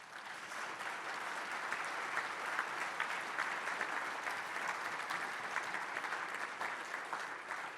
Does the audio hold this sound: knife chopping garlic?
no